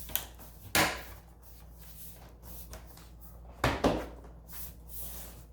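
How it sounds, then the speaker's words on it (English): Two sharp plastic clicks, spaced a few seconds apart, as the case of a Dell Inspiron 17 7779 laptop is snapped back into place, each crisp and close over a quiet background hum. "we're gonna put the case back on, snap it in."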